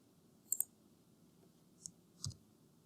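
A few faint, sharp plastic key clicks on a computer keyboard in a quiet room, a quick double tap followed by two softer presses, with no one talking.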